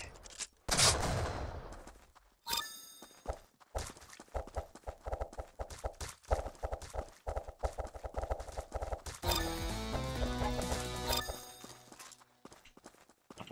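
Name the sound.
gunfire in a video game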